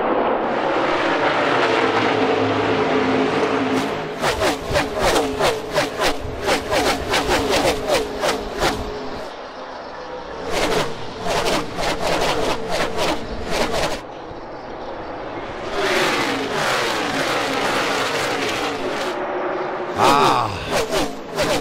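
NASCAR Xfinity Series race cars roaring at Las Vegas Motor Speedway, loud engine noise with repeated rapid pulsing passes and revving bursts, blended with crowd and broadcast ambience.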